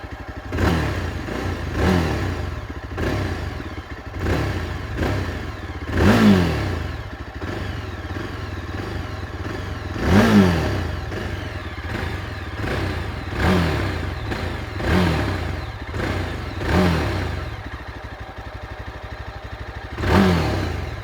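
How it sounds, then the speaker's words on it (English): A Yezdi Adventure motorcycle idles with a thumping single-cylinder exhaust note, punctuated by several short throttle blips at regular intervals, close and steady throughout. "let's get it fired and listen to the exhaust note"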